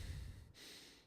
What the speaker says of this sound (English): I think you guys are hearing I'm breathing a little bit better